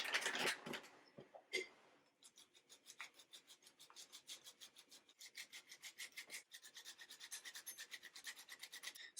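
Pecorino cheese is grated by hand against a rasp for a cacio e pepe dish, making a quiet, steady rhythmic scraping of rapid even strokes after a few clattery knocks at the start.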